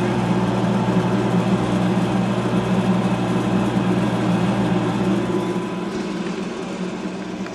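A church organ's large blower runs beside the wind reservoir, a steady low mechanical hum and whir holding constant throughout with no voices.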